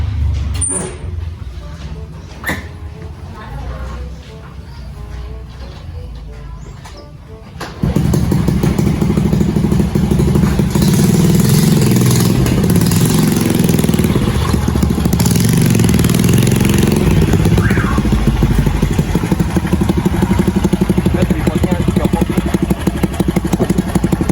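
After several seconds of quiet outdoor ambience with a few knocks, a nearby motorcycle engine starts abruptly and keeps running loud and steady, a rough, close idle rumble filling the rest of the clip.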